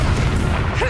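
Confringo spell explosion in Hogwarts Legacy, a loud, close, booming blast filling the whole moment, with a short voice cry near the end.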